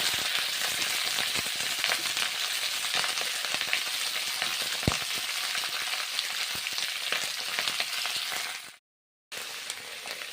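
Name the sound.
cabbage frying in hot oil with cumin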